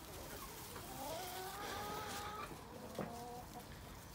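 Chickens in a backyard setting give soft, irregular clucks and short calls over steady background noise, with one sharper call near the end.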